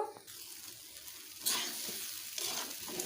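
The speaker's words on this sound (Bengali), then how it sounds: "সবজিগুলো দিয়ে এক মিনিট মতো নেড়ে নেব" Vegetables for a vegetarian dalia khichdi stirred in a pan, giving a steady sizzle broken by louder scraping bursts of stirring near the middle and end, with no talk.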